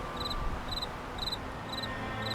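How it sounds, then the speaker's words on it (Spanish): Crickets chirp steadily in tall grass beside a sheltered porch on a calm evening, a regular pulsing trill repeating about twice per second over a soft, steady background with no voices. "Los grillos chirriaban plácidamente entre las altas hierbas."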